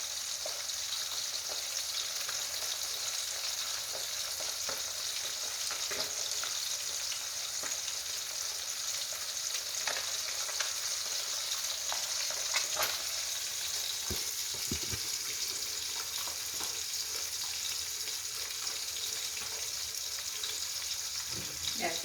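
Steady oil sizzling and crackling from a frying pan of small fish over medium heat, continuous and fairly loud throughout, with occasional sharper pops and faint clinks.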